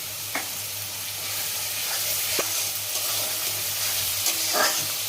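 Spice paste frying in oil for katla fish kalia, a steady close sizzle with a handful of sharp spatula scrapes and knocks as it is stirred.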